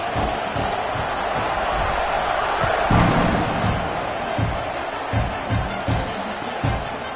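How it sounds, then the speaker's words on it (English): Stadium crowd in College Football 26 roaring steadily before a kickoff, a broad loud wash of cheering with thumps and whoops rising from it, commentary voices faintly underneath. "this crowd is feeling themselves after that last drive"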